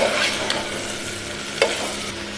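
Carrot, beans and potato sauté in hot oil, a constant close sizzle punctuated by two sharp spatula scrapes against the pan, with a faint hum beneath and no talking.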